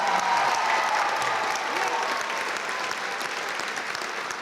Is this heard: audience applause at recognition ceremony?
yes